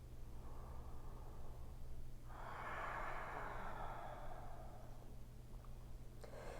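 Slow, soft breaths during a seated yoga twist: a gentle airy inhale swelling in the middle and easing out, close and quiet against a faint low hum.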